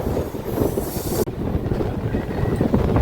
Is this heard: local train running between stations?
yes